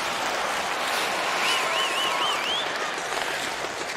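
Hockey arena crowd in NHL 2K10 at a Washington home game: a steady broad roar of spectators with a whistle-like warble rising briefly in the middle.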